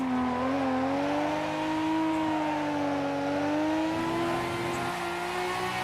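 Noriyaro's 'Beercan' Skyline held in a long drift through a corner in a driving video game, its engine droning steadily at high revs with slowly wavering pitch and a faint scrub of sliding tires beneath.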